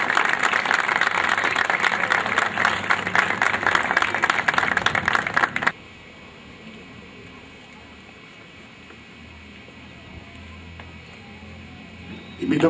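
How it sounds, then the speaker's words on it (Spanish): An audience at a volunteer firefighters' award ceremony applauds in a dense, even burst for about six seconds, then the clapping stops abruptly, leaving quiet room tone. "Y el aplauso, por supuesto,"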